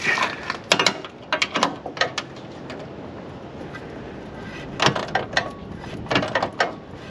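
A fitting with Teflon tape is screwed into a hole while fitting a Front Runner water tank to a Land Rover Defender, giving bursts of close metallic ratcheting clicks separated by brief pauses.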